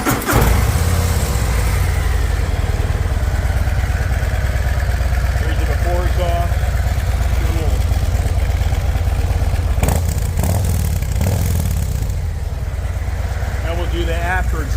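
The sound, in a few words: motorcycle engine idling with the stock exhaust, before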